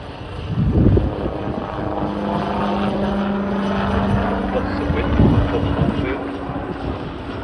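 A large military helicopter with a 43-foot main rotor passes nearby, its rotor and turbine making a loud continuous roar with a steady tonal whine and two heavier surges in the throbbing.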